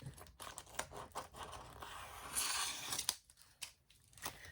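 Scissors cut a laminated image to shape in a series of quiet, close snips and crisp slicing strokes, with the stiff sheet crinkling softly between cuts.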